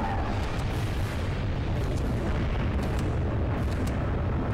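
Dense, sustained blasts and rumbling booms of explosions fill a Global Defence Force video game battle, loud and continuous with crackling bursts on top and no letup.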